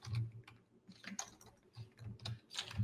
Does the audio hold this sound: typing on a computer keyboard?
yes